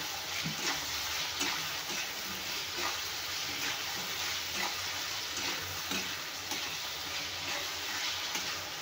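Eggplant pieces sautéing in oil with a spoonful of salt in a pan: a steady, close sizzle runs throughout, broken by regular scrapes and knocks of a spatula stirring.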